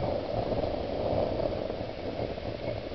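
DIY furnace burning waste engine oil, its flame giving a steady, close roaring hiss with a low rumble and no talk over it.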